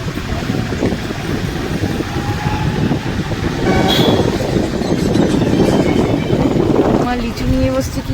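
Vehicle crossing a railway level crossing, with a loud steady rumble and wind buffeting that swells midway, a brief horn-like tone near the end, close and continuous; faint voices may sit under the noise.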